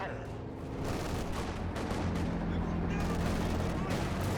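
Dense, continuous gunfire and explosions from a World War II battle in the strategy game Company of Heroes 2, with Soviet conscripts under fire, a busy mid-distance rattle of shots filling the whole few seconds.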